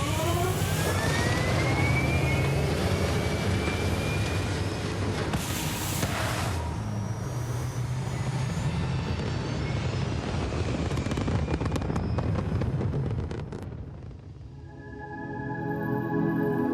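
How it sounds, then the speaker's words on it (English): Spaceship thrusters firing in Starfield, a loud continuous roaring rush that holds steady for most of the stretch, then drops away to a quieter tonal hum near the end. "All thrusters firing."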